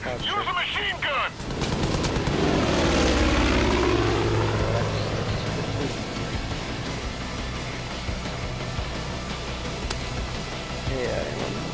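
A P-51 propeller plane in Far Cry 5 drones loudly with bursts of machine-gun fire, its engine hum shifting as it passes, while a player talks over the action.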